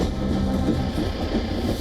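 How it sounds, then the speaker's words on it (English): A steady, heavy rumble of a train rolling through a flooded area in Sri Lanka, with a dense low roar and no distinct clacks, loud and continuous throughout. "A train passing through a flooded area in Sri Lanka."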